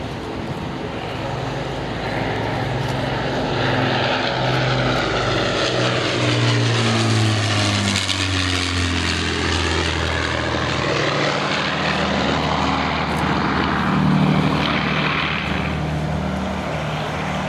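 An Avro Lancaster bomber's four Rolls-Royce Merlin engines drone loudly overhead at an airshow, the deep propeller roar swelling and shifting in pitch as the aircraft passes by.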